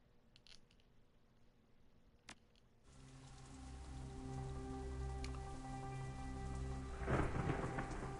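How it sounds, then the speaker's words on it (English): Stormy rain and thunder at the Tai Po docks in the video game Shadowrun: Hong Kong: faint at first with a sharp crack, then steady rain swells in, with a louder thunder rumble near the end. "The storm is loud, particularly deafening. Periodic thunderclaps roar like distant cannon"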